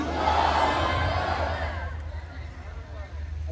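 A large crowd at an outdoor religious gathering shouts back in unison after a takbeer call, a loud roaring chant that swells and then fades into a lingering murmur of many voices.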